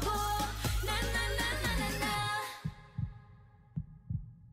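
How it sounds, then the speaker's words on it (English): A heartbeat sound effect closes a pop music performance: a sustained musical passage fades out and leaves slow, soft, deep double thumps pulsing alone in near silence. "Heartbeat, nice"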